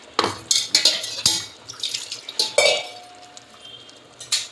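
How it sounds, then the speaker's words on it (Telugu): A mixer grinder jar being rinsed with water and the water poured out while making chinta chiguru chicken curry: a run of splashes and sloshes with light clinks of the jar, close and fairly loud, no talking. "జారి కొద్దిగా కడుక్కొని నీళ్ళు పోసేసేయాలి"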